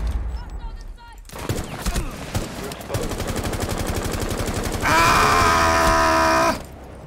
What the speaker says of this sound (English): Joe, grenade! Or, I guess, EMP!